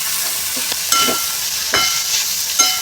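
Sabudana khichdi (tapioca pearls with green chilli chutney and spices) stirred in a pan over a low flame, giving a steady soft sizzle with a few brief scraping strokes, close and continuous, with no voices.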